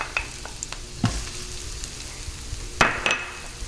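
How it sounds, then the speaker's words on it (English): Onions and chilies hit a hot pan and start sizzling, with scattered clinks and a couple of sharp spatula knocks against the pan over a constant frying hiss, close by and with no speech. "let me go ahead and throw in my onions and my chilies"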